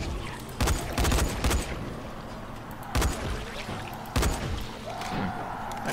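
Gunfire in the zombie game Dying Light, heard as several sharp loud bursts and thuds spaced across the moment, with game ambience running between them.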